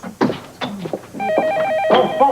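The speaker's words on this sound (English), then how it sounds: "Phone." Telephone ringing with a warbling electronic trill in a late-1980s setting, a couple of rings coming in over and after brief talk, fairly close and clear.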